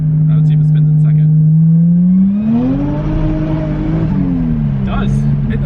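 A Toyota JZX100 with stretched tires revs hard and spins its wheels in second gear, the engine note climbing and wavering loud and close over steady low drone, with a voice talking early on.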